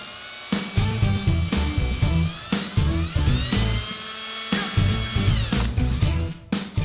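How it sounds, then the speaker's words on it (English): A power drill bores a pilot hole for a small bolt while a radiator is being mounted, its high whine rising and falling in pitch over several close, loud bursts with no talking. "Just need a pilot hole for a small bolt."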